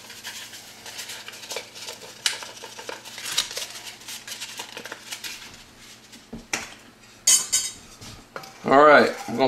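Spoon scraping and clinking against a pot while lemon juice and Sure Gel pectin are stirred for clover jelly, irregular metallic taps and scrapes, close up and fairly quiet, ending with a few sharper knocks.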